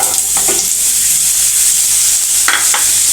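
Loud, steady sizzling of raw mango pieces frying in hot oil with asafoetida, with a few brief stirring scrapes.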